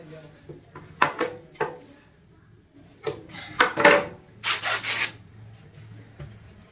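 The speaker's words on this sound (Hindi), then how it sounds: "तो हम 5 से 6 इंच की एक पट्टी कटिंग कर लेते हैं सीधी" Scissors cutting a straight strip of cushion cover fabric, close by, in short crisp snips and rasping rubs that come in quick clusters separated by quiet pauses.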